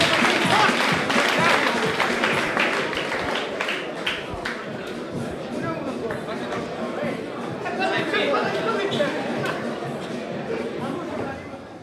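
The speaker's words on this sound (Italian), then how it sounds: "un applauso" Crowd applauding the winner of a RONIN FC4 fight between Luca Ronchetti and Giuseppe Mancuso, a dense, steady wash of clapping and chatter that fades slightly toward the end.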